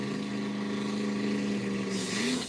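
A loud, steady vehicle engine drones with harmonic hum, then rises in pitch near the end as it revs up, close by.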